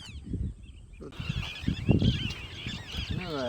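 A spur-winged lapwing, a rare first record for India, gives harsh, honking calls in short repeated bursts, fairly close and clear over quiet outdoor background.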